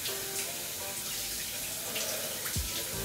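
Water runs steadily from a tap while hair is wetted before using a shampoo bar, a soft, continuous splashing stream at low level with no talking.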